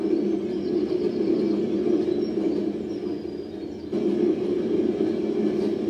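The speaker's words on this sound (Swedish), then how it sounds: "Nu backar tåget." A train reverses in the LEGO City Undercover video game, a steady mechanical rumble with a droning low hum, a brief dip near the end and faint chirps over it, heard alone without talk.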